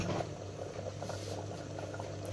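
Mixed dal for Malwa-style bafla simmers in a pot, giving a steady, close bubbling and gurgling texture that runs unbroken with no voices.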